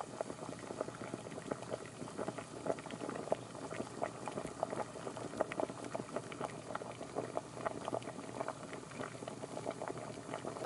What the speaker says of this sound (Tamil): கொஞ்சமாக மிளகாத்தூள் வந்து சேர்த்து நல்லா இந்த மாதிரி வதக்கியாச்சு